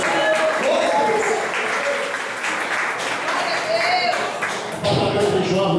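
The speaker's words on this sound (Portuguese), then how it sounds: "dê uma salva de palmas para o Senhor Jesus" Congregation in a church service clapping together in praise, a dense, lively wash of applause with voices mixed in throughout and a brief dip near the end before it swells again.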